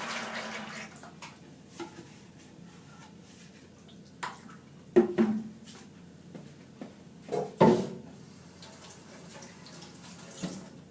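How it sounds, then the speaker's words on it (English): Excess ceramic glaze is poured back into its container, a liquid trickle with several splashy pours and soft knocks and clatters of the vessel throughout, close and fairly quiet. "Pour back this excess."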